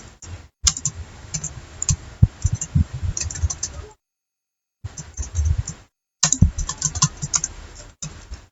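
A Python command being typed on a computer keyboard: bursts of quick, close key clicks with a short pause partway through, then more rapid tapping.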